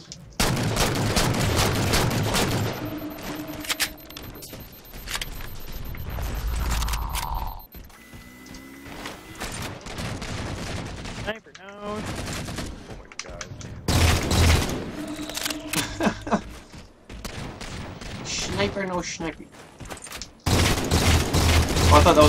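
Halo 4 gunfire comes in sharp bursts of shots between mechanical clicks and reload clatter, loud and close, with pauses and a voice talking over parts of the action.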